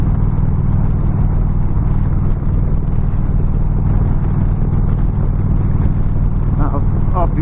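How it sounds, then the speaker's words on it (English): A motorcycle engine thuds steadily while cruising at speed, a constant loud drone mixed with wind rush, with a voice talking over it. "The engine thuds away."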